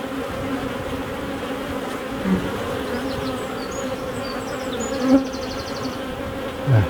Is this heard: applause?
no